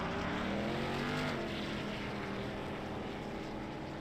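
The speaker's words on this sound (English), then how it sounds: "Does some burnouts for us, at least a half circle burnout" A modified race car at a Nashville short track spinning a half-circle burnout, its engine a sustained loud roar with a rising then falling pitch, heard alone without talk.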